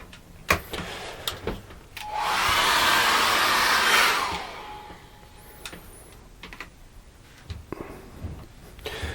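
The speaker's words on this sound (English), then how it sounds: "what we can do is dry that off with a hairdryer" A hair dryer blows on fresh acrylic paint in a seascape painting, a steady loud whoosh lasting about two seconds, framed by scattered clicks and taps of handling before and after.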